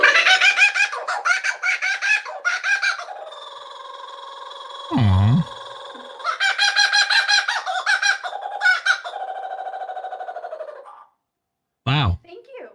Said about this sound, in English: he is a kookaburra